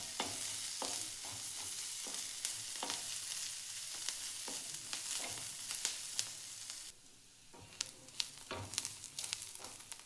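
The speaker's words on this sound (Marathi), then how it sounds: "छान असा कांदा भाजून घ्यायचा आहे." Chopped onion dry-roasting in a pan with a little chili-roasted oil, giving a steady loud sizzle broken by frequent scraping and clattering stirs throughout, with no voices.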